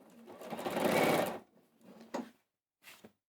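A sewing machine stitching a fold on a fabric tablet case, one steady whirring run of about a second and a half, then two shorter bursts after brief pauses, heard close with no talking.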